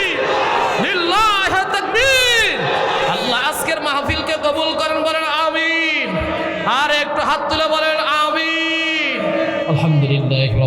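A large congregation at an Islamic sermon roars takbir in unison in response to the preacher, a loud chanted crowd shout with rising and falling voices that repeats several times, filling the space close and loud.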